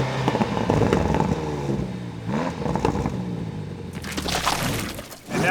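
In dynamic mode, a Land Rover Defender OCTA's active exhaust revs repeatedly with rising and falling engine tones, sharp crackles and pops, and a final burst of blips, loud and close with no talk.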